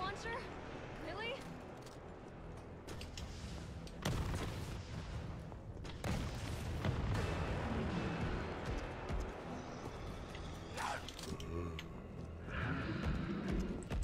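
Rocket launcher explosions in the Resident Evil 3 remake, a steady barrage of heavy booms and blasts over dense game noise, with several louder bursts near the middle and end.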